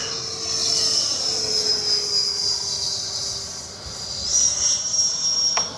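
A high, steady turbine whine of a small Freewing F9F-8 Cougar RC model jet passing overhead, continuous and fairly loud, rising slightly in pitch near the end.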